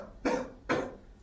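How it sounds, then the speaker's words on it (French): Two short, soft coughs about half a second apart, close by, in an otherwise quiet room, during a medical cardiovascular examination. "Je vais vous demander de tousser un petit peu."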